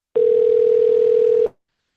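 A single steady phone ringback tone, about 1.3 seconds long, sounds clear and loud after a call is placed, then stops abruptly; no speech.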